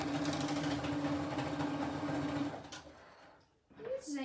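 Sewing machine stitching through a folded milk carton, a steady mechanical hum running loud and close for about two and a half seconds, then stopping into quiet before a brief voice.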